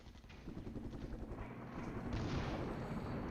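Artillery fire in the wargame Flashpoint Campaigns: a continuous rumbling barrage of dull booms that swells louder toward the end, with no voices over it.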